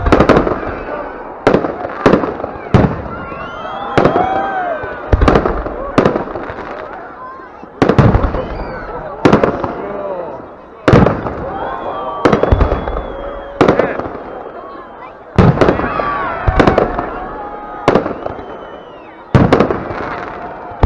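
New Year fireworks bang and crackle in loud, sharp bursts at irregular intervals, some close and echoing, while people talk and cheer between the blasts.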